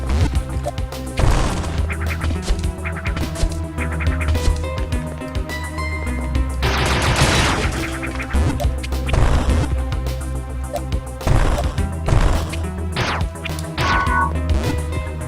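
Video game weapon fire from the Metroid 2 remake: bursts of missile shots and bomb blasts pop and crash over a busy, looping game soundtrack, with repeated sharp hits scattered across the stretch.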